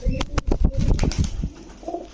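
Giribaz pigeons, including a black Musaldom, cooing close by in a rapid burst of repeated throaty coos with a flutter of wings, then quieting.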